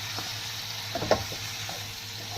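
Thick blended masala of onion, tomato, almond and green chilli being stirred into mutton in a hot pan, giving a steady low sizzle with a few soft scraping stirs near the middle.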